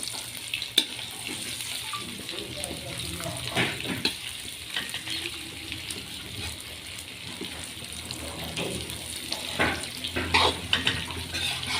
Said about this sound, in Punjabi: ਲਸਣ ਭੁੱਜ ਰਿਹਾ ਹੈ